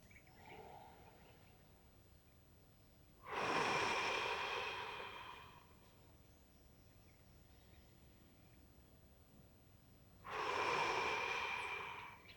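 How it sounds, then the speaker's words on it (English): Two long, slow exhalations during a qigong exercise for releasing grief, each a breathy whoosh lasting a couple of seconds, separated by a quiet pause, heard close with no talking. "Let's breathe it out."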